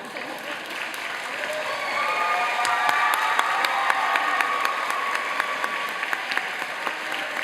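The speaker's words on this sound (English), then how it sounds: "I want you to turn around and applaud your family" High school seniors at a 2023 commencement applaud their families, steady crowd clapping of moderate loudness with scattered sharper claps throughout.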